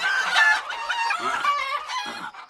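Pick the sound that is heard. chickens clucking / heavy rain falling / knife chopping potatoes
chickens clucking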